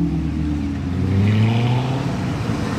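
A yellow Ferrari 12 Cilindri V12 supercar drives past in a car parade, its engine holding a steady, loud drone with pitch slowly climbing as it goes by, with no one talking.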